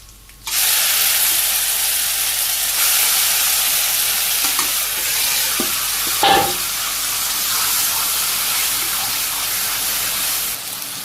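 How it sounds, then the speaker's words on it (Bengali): Onions, garlic, green chilies and greens hit a hot oiled pan in a Bangladeshi village kitchen, bursting into a loud, steady sizzle that holds for about ten seconds, with a brief stirring scrape midway. "আমি পেঁয়াজ দিয়ে দিই রসুন কাঁচামরিচ এই পেঁয়াজগুলো ভাজি হয়ে গেছে শাক দিয়ে দিই"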